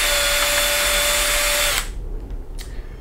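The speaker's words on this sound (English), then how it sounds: "I do drill these before I put them in the kit" A loud power drill whines steadily for nearly two seconds, drilling holes in RC10GX radio-control car parts, then cuts off, leaving quiet room noise with a faint brief click.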